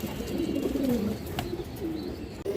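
A pair of jag pigeons gives throaty rolling coos up close, one longer phrase then shorter ones, alone and fairly soft.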